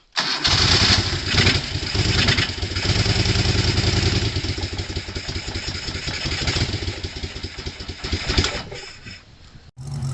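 A 1987 Merkur XR4Ti engine cranks and catches, then runs steadily at a close, loud idle with a rough rhythmic throb that dips near the end.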